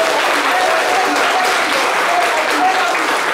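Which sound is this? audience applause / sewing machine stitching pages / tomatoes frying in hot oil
audience applause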